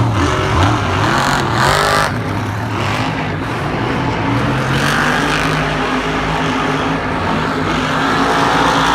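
Monster Jam monster trucks racing through the final round at Glendale, a loud continuous roar of big engines revving and droning with shifting pitch, dense and close with crowd and arena noise mixed in.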